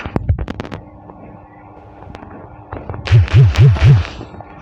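Gunshots fire in a shooting video game: a quick burst of sharp, close shots opens, then a quieter stretch, and a louder, booming rumble builds near the end.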